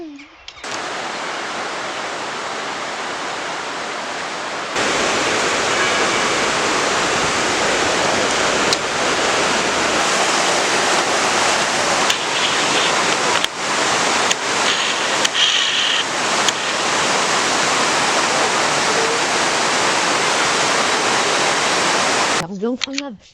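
Water overflowing and running from Morantou into the Sorgue stream near a mountain refuge, a loud continuous rushing roar close by, steady throughout with faint handling noises.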